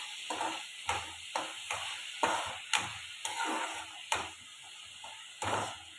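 Onions sizzling in a pan on the stove while a spoon stirs and scrapes through them in repeated strokes, each scrape standing out briefly over a steady close frying hiss, with no talking.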